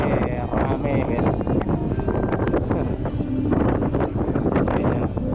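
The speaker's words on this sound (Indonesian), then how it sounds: "Wah, anginnya kencang banget ya Pak." Strong wind gusts across the open deck of a passenger ship at sea, a loud steady roar buffeting the microphone throughout.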